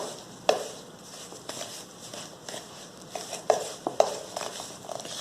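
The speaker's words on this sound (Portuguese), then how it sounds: "vou mexer. Aqui, ó, vou mexendo, tá? Até que se misture por completo." A spoon stirs a mixture in a pot while making chicken empadas, giving soft scraping swishes with a few sharp clicks against the pot, fairly close and quiet, with no talking.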